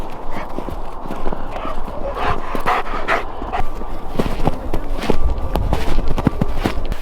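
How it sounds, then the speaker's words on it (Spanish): Several dogs bark in short bursts while walking through a snowy winter neighbourhood in Brampton, Canada, with footsteps and faint speech in the background; the barks come at moderate distance and keep repeating throughout. "con el perro ladrando"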